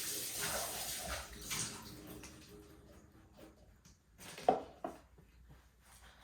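Tap water runs into a mixing bowl during bread baking as it is rinsed out, a splashing wash that fades, followed by a few clunks and a sloshing splash.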